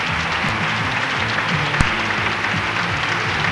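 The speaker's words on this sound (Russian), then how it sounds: "Ваши аплодисменты." Applause at the Krasa Rossii 98 beauty pageant, a broad, even clapping from a large audience, with a low musical hum running beneath and one sharp thud partway through.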